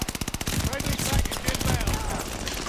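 Rapid automatic gunfire from a gun in Call of Duty Vanguard rattles out in a fast, regular burst, then merges into a dense wash of loud shooting and game noise, with a player speaking over it.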